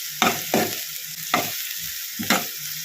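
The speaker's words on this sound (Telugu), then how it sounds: "వేసుకొని మళ్ళీ ఇది బాగా కలుపుకోవాలన్నమాట" Onions being stirred in a frying pan for an egg and carrot curry: four distinct scraping strokes of a spoon against the pan over a steady, soft sizzle, close and alone.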